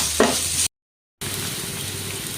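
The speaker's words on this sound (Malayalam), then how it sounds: "ഉള്ളിയൊക്കെ ഒന്ന് നല്ലതുപോലെ വഴണ്ട് വരട്ടെ" Onions sizzle as they sauté in a pan, a steady close frying hiss with a brief stirring scrape early on, cut by a short silent gap before the sizzle resumes.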